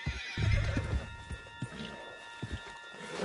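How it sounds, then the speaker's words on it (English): A horse neighs loudly up close, then hooves clop along in uneven steps, with faint background hum, in a video game. "Put Strauss on the back of John's horse"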